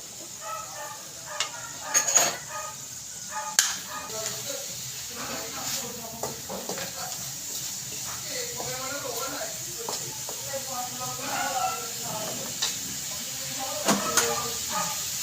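Pork pieces frying in hot oil for crispy tengang kawali, a steady sizzling hiss with scattered sharp pops and crackles, close and moderately loud, with a voice speaking over the frying.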